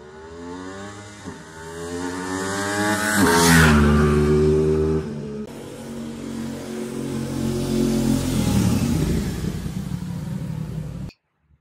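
An Aprilia RS660 motorcycle engine revs hard, climbing to a loud peak and easing back before rising again, then cutting off abruptly; the engine is heard alone with no talking.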